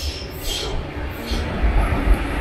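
A train runs through Athens, Greece, a low continuous rumble of wheels and rails that swells toward the end, with some faint hiss and clatter on top and no speech.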